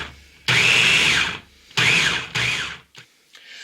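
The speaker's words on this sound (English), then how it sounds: "now that we've got our mild peppers chopped up and ran through the food processor" Mild peppers are pulsed in a food processor for salsa, with a long loud whir followed by two shorter bursts and then a couple of faint clicks and settling sounds.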